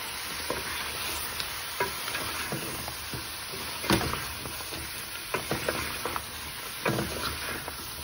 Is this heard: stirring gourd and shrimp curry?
yes